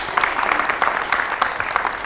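Studio audience applause on a Ramadan naat competition show, a dense, even patter of many hands clapping, steady and moderately loud, with no talking over it.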